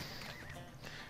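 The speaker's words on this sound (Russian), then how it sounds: "Жутковатый конь. Давайте его и вызовем." A summoned creepy horse in the video game LOTRO gives a short neigh with a clip-clop of hooves, one brief faint burst in the game's sound.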